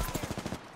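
Rapid bursts of gunfire in a shooter video game, the player coming under fire, with several close, punchy shots in quick rhythm over less than a second before it cuts away.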